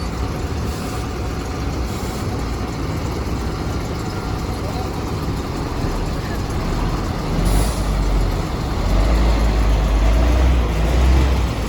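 Heavy articulated bus idling nearby in Sydney with a steady diesel rumble, brief hisses of air brakes and a deeper surge toward the end, voices faint underneath.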